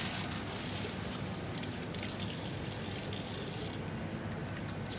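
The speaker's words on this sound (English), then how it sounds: "So now we're gonna wash our hands" Tap water runs steadily into a sink while hands are washed beneath it, a constant close splashing hiss that thins out near the end.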